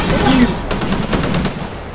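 A fast-firing gun in Titanfall rattles off a loud, rapid burst of shots close by, with other battle noise and a voice partly underneath.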